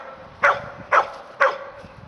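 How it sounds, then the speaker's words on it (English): Dogs outside a fenced garden give three short, evenly spaced barks close by, each a sharp yelping burst about half a second apart. "Barking to be let into the garden."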